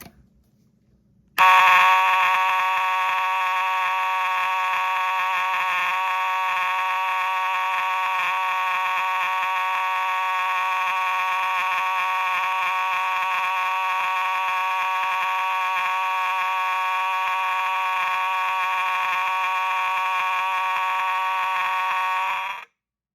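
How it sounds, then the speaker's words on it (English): An aged model 4903 mechanical fire alarm horn cuts in after a short silence and blares continuously, loud and raspy, for about twenty seconds before stopping abruptly. "as is the case with many of these 4903 horns, it hasn't aged very well. It could sound worse, but it doesn't sound great"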